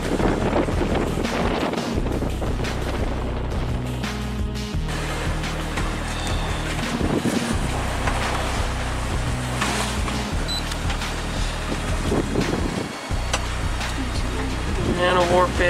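A sailboat at night, sailing toward Great Inagua in the Bahamas: steady wind buffeting the microphone over rushing water and hull noise, continuous throughout, with talking mixed in.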